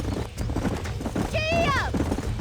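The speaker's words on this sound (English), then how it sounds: "These are fine horses." Horse hooves clip-clopping at a trot in the Red Dead Redemption video game, a steady rhythmic patter under continuous talk and ambient game sound, with a brief whinny-like tonal cry midway.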